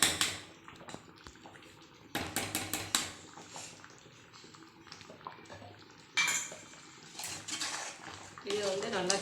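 A spoon scrapes and clinks against a metal pot while stirring urad dal mixture, in uneven bursts of clatter with quieter gaps, close by, and a voice talks in between.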